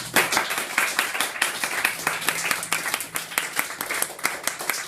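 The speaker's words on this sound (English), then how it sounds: "A big round of applause for Victoria." An audience at a poetry reading claps for a performer, a brisk round of applause from a modest crowd with sharp, fairly close individual claps lasting several seconds.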